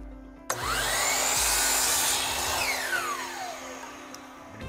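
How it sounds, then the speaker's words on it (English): Power saw trimming a blade width off the end of a wooden board: a sharp start, then a steady loud whine as it cuts and a falling tone as the blade spins down, with a faint click near the end. "So I'm just going to trim a blade width or so off of this end."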